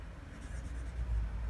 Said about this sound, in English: So let's do a writing sample of the Franklin Christoph.